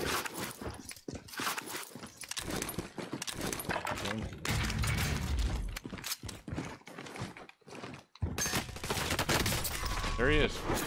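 Rapid bursts of automatic gunfire in the Warzone video game, with close, loud volleys broken by short pauses and quieter stretches.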